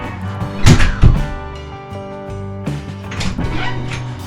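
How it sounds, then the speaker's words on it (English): A cabin door in a tiny home build is swung shut twice, giving two close, loud thuds early on over a low background hum, with a fainter knock later. "Listen to the sound when I close this door."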